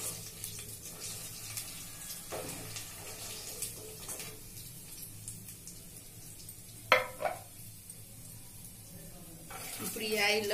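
Potatoes and peas frying in oil for aloo matar curry give a soft, steady sizzle, with a few stirring clinks, all under a voice talking.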